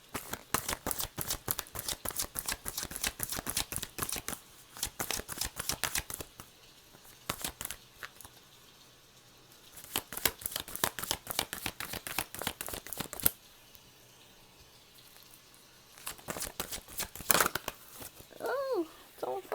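An oracle card deck is shuffled by hand in several bursts of rapid, close riffling and flicking, separated by quieter pauses, with a voice briefly talking near the end.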